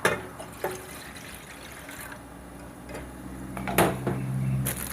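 Plain water pours into a coconut milk mixture, a steady liquid trickle with a few clinks of a vessel, growing fuller toward the end.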